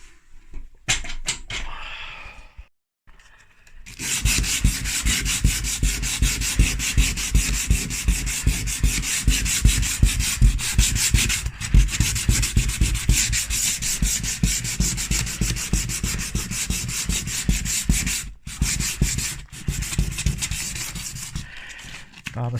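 Sandpaper is rubbed by hand along a wooden shutter in steady, rhythmic back-and-forth strokes, close and continuous after a brief quiet start, with faint handling noise and no talking.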